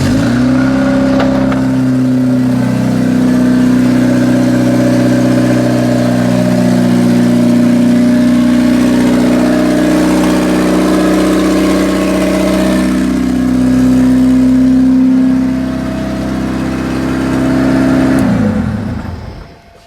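An SR20DET engine in a Datsun 510 runs close by, with a steady deep idle carrying strong low harmonics, a few gentle revs rising and settling, then a fade as it winds down at the end.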